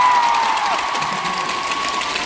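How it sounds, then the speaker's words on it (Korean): A large concert crowd in Seoul cheers and applauds the performers, a dense, steady wash of clapping and high-pitched screams continuing throughout. "우리 멤버들한테 한번 박수를 주고 싶습니다"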